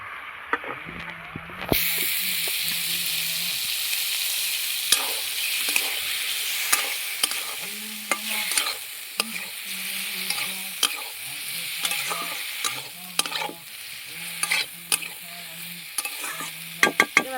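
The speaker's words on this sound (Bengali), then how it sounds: "এবার আমি মাছটা দিয়ে দেবো" Loud, steady sizzling of Bombay duck fish frying in a pan, with repeated scraping and knocking of a utensil as it is stirred.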